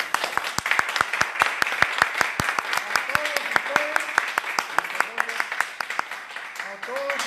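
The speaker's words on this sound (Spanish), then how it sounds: "Así que un aplauso." Audience applause at a music concert in Guatemala, honoring a newly graduated lawyer: steady, dense hand clapping fills the room, with a few faint voices rising briefly near the end.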